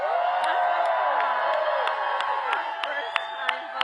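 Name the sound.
crowd applauding and cheering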